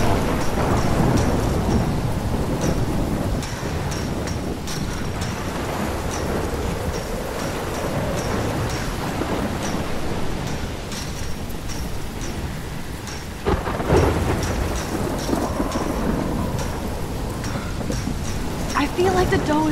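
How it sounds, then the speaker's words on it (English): A steady thunderstorm rages in the video game Life Is Strange, with continuous heavy rain and deep rolling thunder, including a louder crack partway through, all close and full throughout. "I've never seen a storm like this in Oregon."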